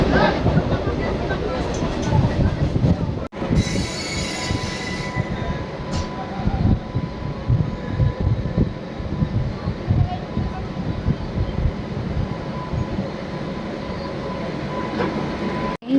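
A local commuter train on the Hasnabad to Sealdah line pulls into a platform with a steady, loud rumble of rolling wagons and wheel noise that lasts throughout, with brief high squeals and some voices in the background.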